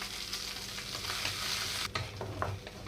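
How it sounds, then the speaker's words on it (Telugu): Green chillies fry and sizzle in a pan for tomato curd chutney, a steady hiss broken by a few scraping stirs near the end. "ఇక్కడ చూడండి పచ్చిమిరపకాయలు అన్నీ వేగిపోయినాయి"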